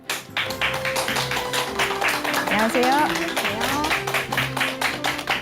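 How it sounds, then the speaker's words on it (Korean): Audience clapping welcomes a parenting education expert onto a talk stage, steady claps running under a voice that speaks a short greeting. "큰 박수 부탁드립니다"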